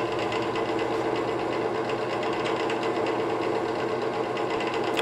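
A wood lathe spins a square winged bowl while a sharp scraper hogs wood out of the bottom, giving a steady, loud, continuous whirring and scraping hum with no pauses.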